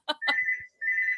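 A landline telephone rings with a pair of short electronic chirps followed by two sustained, steady ring tones separated by a brief gap, close and clear.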